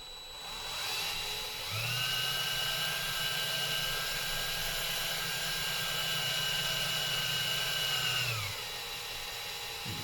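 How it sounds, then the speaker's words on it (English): A drill bores through wood on a Shetland workshop project, a steady, close motor whine that starts abruptly, holds evenly for about seven seconds without strain, then cuts off over faint background noise. "I want it to drill through, you know, smoothly, not forcing it."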